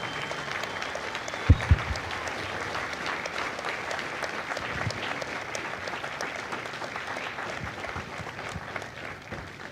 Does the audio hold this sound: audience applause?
yes